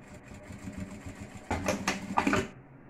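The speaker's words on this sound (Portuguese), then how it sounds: "Chego essa parte pra cá e faço uma costura aqui bem na beiradinha." A home sewing machine stitches a seam right along the fabric edge, first with a steady low whir and then a quicker, louder burst of running that stops abruptly.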